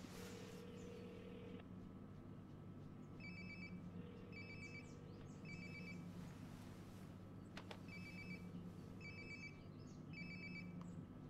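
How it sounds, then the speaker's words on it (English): Phone ringtone chirping in Life is Strange: Before the Storm, short paired beeps repeating in regular bursts over a steady low ambient hum, moderately loud and close, with no talk. "Sounds like my phone is definitely nearby"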